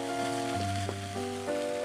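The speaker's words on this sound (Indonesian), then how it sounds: "Tumis terinya sampai aromanya kemana-mana guys." Anchovies stir-fry in hot cooking oil in a wok over low heat, giving a steady crackling sizzle like rain alongside a constant tonal hum, with no talk.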